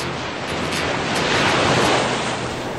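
Waves surge and wash against rocks along the clear-water coast of Minorca, a steady, full roar of surf with some wind rush, swelling slightly midway and continuing without any voices.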